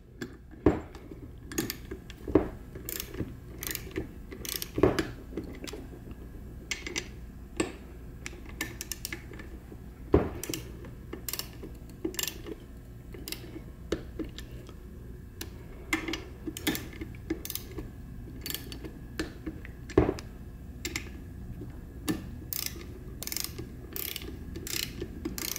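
Torque wrench tightening transmission gasket bolts on a Muncie M20/M21/M22 four-speed to 15 foot-pounds, heard as rapid, fairly faint, close ratcheting clicks in irregular bursts, with sharper clicks scattered throughout.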